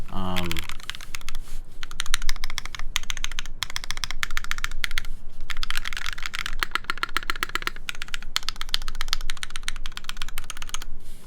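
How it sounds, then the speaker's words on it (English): Clacky mechanical keyboard switches in a half-aluminium Kei SE case are typed on rapidly and continuously, producing dense, loud, close-up clatter throughout. "These switches sound so clacky in this half alu configuration."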